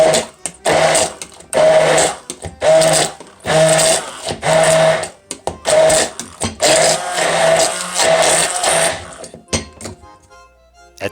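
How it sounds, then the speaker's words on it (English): An immersion blender whipping cream, a loud whirring motor running in repeated bursts with short pauses and clinks against the container, fading out at the end. "At this point, the whipped cream is getting pretty thick, so your immersion blender might come apart. Just put it back together and keep blending."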